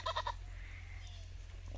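A goat bleats once on a goat farm, a short nasal call right at the start, close by, over a steady low hum, then a quiet outdoor background with no talking.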